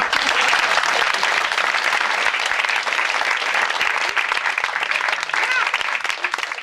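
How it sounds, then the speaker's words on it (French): Sustained applause from an improv theatre audience, a dense steady wash of clapping that holds loud for several seconds. "Très bien, vous pouvez les applaudir."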